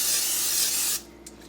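Non-stick cooking spray hisses from an aerosol can into a bread machine pan for about a second, close and fairly loud, then cuts off sharply, leaving quiet room tone.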